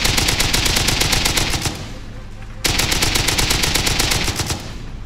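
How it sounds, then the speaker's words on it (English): Rapid bursts of automatic gunfire in the video game Rust fill the air, pausing briefly in the middle before another long volley starts, loud and close. "I can hear the gunshots going on from here"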